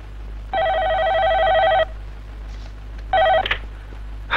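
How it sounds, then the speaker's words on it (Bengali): Telephone ringing indoors in a Bangladeshi film scene: one long electronic ring burst, a pause, then a second shorter ring cut off as it is answered, loud and close over a low hum. "ফোন ধরতে এত দেরি হলো যে?"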